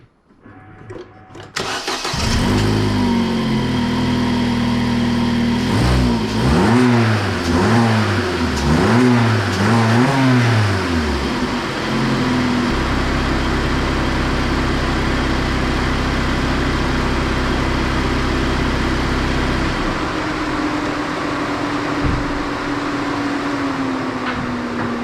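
A Vauxhall Insignia engine cranks and fires, then revs in several quick rising and falling bursts before settling into a steady, loud idle that shifts slightly lower near the end, with no talking over it.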